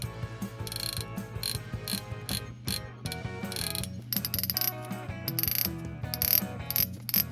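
Rapid mechanical clicking of the drag on a Daiwa Certate SW 2024 spinning reel, a fast ratcheting chatter in uneven bursts, close and fairly quiet, with no talking.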